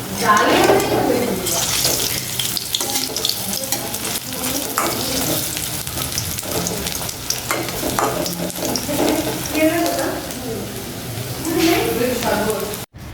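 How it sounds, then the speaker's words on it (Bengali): Chickpea lentil fritters deep-fry until crisp and red, a loud continuous close sizzle and bubbling with occasional stirring, and a voice is heard faintly under the frying. "কি সুন্দর লাল লাল করে মচমচা করে ভাজছি"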